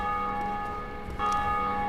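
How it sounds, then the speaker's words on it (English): Bell ringing in Dark Souls Remastered, a sustained metallic church-bell tone with a long ringing hum that is struck again partway through and keeps resonating steadily, clear and loud. "every time a person online rings a bell, you will hear the bell ring"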